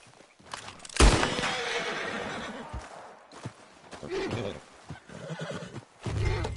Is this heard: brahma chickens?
no